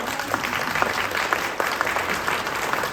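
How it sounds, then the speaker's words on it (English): Sustained audience applause at a public forum on a future town center, a dense steady wash of many hands clapping at once, fairly loud and close, with no talking over it. "give me a round of applause if you don't want that"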